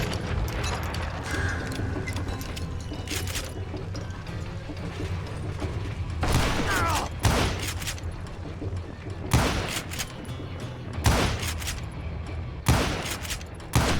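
Gunfire in the Western shooter game Call of Juarez: Gunslinger. Sharp, loud bursts of shots crack out at irregular intervals over a constant rumble of game ambience, with the gaps between shots spaced roughly a second or more apart.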